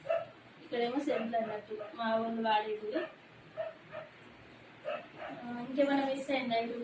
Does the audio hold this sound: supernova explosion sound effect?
no